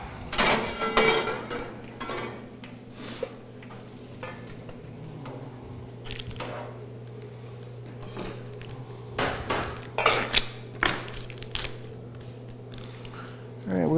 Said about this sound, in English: Go ahead and give our pasta a stir.